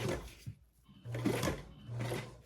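A sewing machine runs in two short bursts of stitching with a brief pause between them, heard close up and steady, with no talking.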